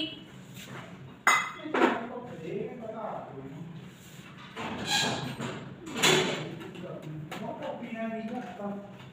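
A spoon stirs and clinks inside a vessel, giving a few light metallic taps and scrapes under ongoing conversation.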